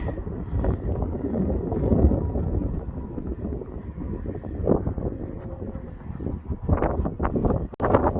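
Steady wind buffets the microphone with low gusting rumble throughout, rising in a few stronger bursts near the end; no speech.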